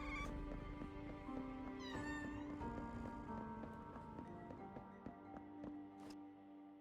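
Cat meowing in the video game Awaken Astral Blade, a few short mews rising over layered game music and ambience, moderately close but partly buried in the mix.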